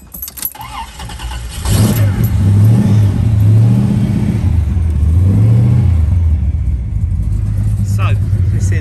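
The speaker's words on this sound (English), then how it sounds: "let's give her a little start up. Let's hear the exhausts. The exhausts are loud." A 1970 Oldsmobile Delta 88 convertible's 7.7-litre V8 with custom exhaust cranks and fires up, settling into a loud, deep burbling idle with occasional small revs.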